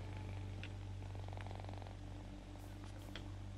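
A cat purrs close and low, a steady rumbling drone that continues under a faint background hum, with a few soft clicks and rustles on top.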